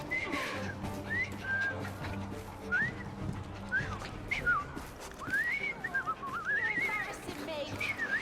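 A character in Assassin's Creed Syndicate whistles a series of short rising and falling tones, scattered and unsteady, over a low background hum with city ambience.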